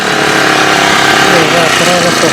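A small engine-powered farm weeding machine for clearing grass between banana and pomegranate rows runs loudly and close, a steady droning engine hum throughout.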